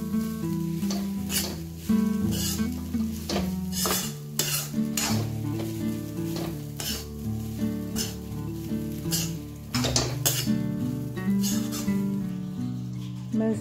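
Aloo poha, Goan-style batata poha of flattened rice and potato, being mixed in a pan: a steady run of scraping stirs with soft sizzling, under a continuous tonal background without speech.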